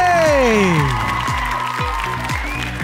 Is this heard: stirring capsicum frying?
no